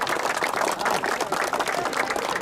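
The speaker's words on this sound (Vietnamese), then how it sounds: "Vỗ tay." Applause from a crowd at a Vietnamese football club celebration after the Hà Nội team finished its season, a dense, continuous clapping heard close and filling the whole moment.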